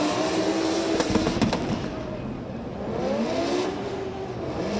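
Drift cars at the Oman International Drift Championship 2024, a Toyota JZ-engined car against a V8 BMW, launch off the line with loud rising engine revs, a few sharp crackles, then sustained roaring as they pull away.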